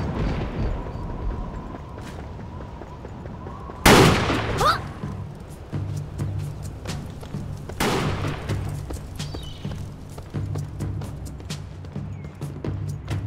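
Gunfire in the Blade & Soul video game: two loud, sharp blasts a few seconds apart, each trailing off into a rumbling tail over a low steady background hum.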